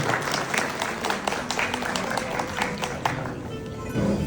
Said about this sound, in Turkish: Ben alkışlarınızla, o güzel alkışlarınızla hem bayanlardan hem beylerden Başkanımız Ahmet Bey'e mikrofonu devrediyoru